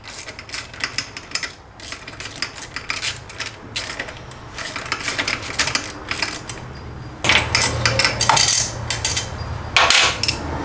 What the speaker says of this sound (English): now I get to undo the clamp on the wastegate flange